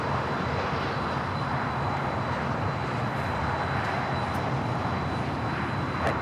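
Steady, broadband aircraft engine roar at LAX, with an A220 just landed nearby; a continuous, moderately loud drone with no breaks and no voices.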